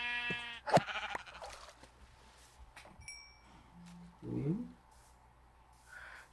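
In Minecraft, a sheep bleats briefly near the start amid a player's talk, followed by quieter game clicks and a short low creature call later on.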